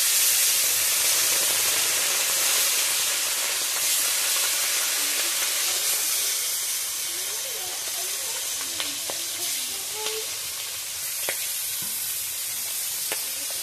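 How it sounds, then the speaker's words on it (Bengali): Singi fish, marinated in salt and turmeric, frying in a wok: continuous loud hissing sizzle of hot oil, with occasional faint pops and crackles, steady throughout with no talk. "আগে থাকতে মাখানো নুন হলুদ মাখানো মাছটা কড়াইতে দিয়ে দিলাম।"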